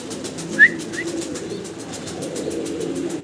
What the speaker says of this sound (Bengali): রোমান গাল কবুতর।